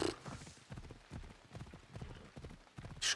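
Hooves clip-clop in a steady, rhythmic pattern as a horse is ridden through a town in Assassin's Creed Odyssey, with a few louder bursts at the start and end.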